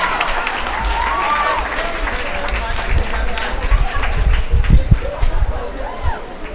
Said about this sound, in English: Please give a round of applause for Ethan Brown.